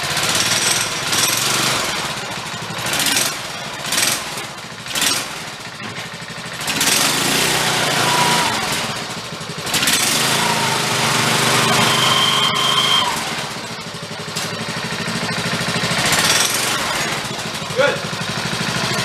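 A small engine on a rebuilt engine-powered wagon runs steadily at idle, a loud continuous buzzing chug with brief surges, with someone talking over it.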